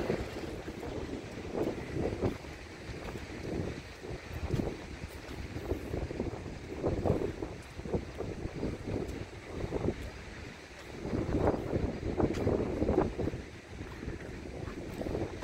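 Wind gusts across a lake, roaring and buffeting the microphone in uneven surges, with the low wash of small waves beneath and no voices.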